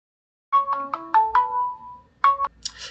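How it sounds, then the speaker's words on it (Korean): A mobile phone ringtone for an incoming call plays a melodic run of bright electronic tones, clear and close, starting after a brief silence and repeating its short phrase. "죄송합니다. 전화가 왔네."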